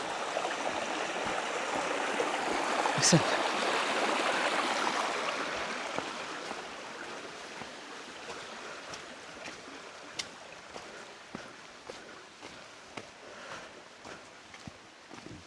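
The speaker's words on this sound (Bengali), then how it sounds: "কি সুন্দর পানির শব্দ, ঝিরির পানি নেমে যাচ্ছে" A mountain stream rushes and burbles continuously nearby, loudest at first then settling, with a brief spoken word and a few sharp clicks over the water.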